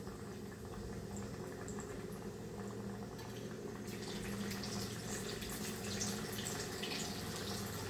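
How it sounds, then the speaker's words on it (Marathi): Coriander vadis deep frying in hot oil, a steady bubbling fry noise that swells slightly brighter partway through, fairly quiet and close, with no voices. "आता वड्या तळून घेऊया डीप फ्राय करूया"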